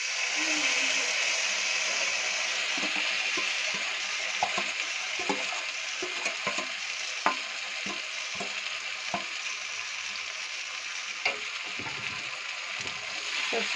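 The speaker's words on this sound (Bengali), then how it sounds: "এবার চিংড়িটা ভাজা হচ্ছে।" Prawns frying in a pan with a steady, continuous sizzle and repeated scraping and clinking of a stirring spatula, close by, with no talking.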